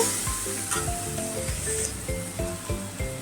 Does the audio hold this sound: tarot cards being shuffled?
no